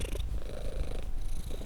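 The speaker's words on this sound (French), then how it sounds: "On dirait de petits animaux qui ronronnent." A cat purring steadily and close, a continuous rough rumbling with a slight rise and fall of each breath, loud and alone with no talk.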